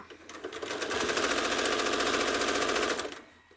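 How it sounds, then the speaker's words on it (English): Home sewing machine stitching a curve while machine-quilting a vintage-style quilt: a fast, even whirring patter runs steadily for about three seconds, close and clear, then stops. "I'm going to stitch a curve from this point to this point"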